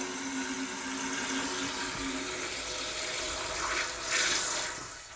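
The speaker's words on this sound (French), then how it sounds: "on voit que ça se remplit beaucoup plus vite" Water rushes steadily into a toilet cistern through a newly replaced float valve, a continuous hissing fill with a faint tonal whine, swelling briefly near the end.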